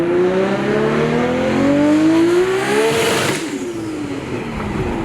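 An 1100-horsepower Nissan Skyline R34 GT-R with an RB26 engine revs hard on the street, its rising pitch climbing through gears loudly, then easing off near the end.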